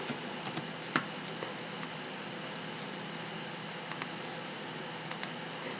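Keyboard shortcut keys tapped on a computer while working in Photoshop, a handful of sparse, crisp clicks spread over a quiet, hissy room tone, with no talking.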